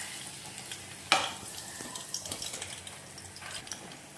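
Garlic frying in a pan, a close, steady sizzle with a sharp burst of crackle as it first hits the hot oil, followed by stirring scrapes and small clinks.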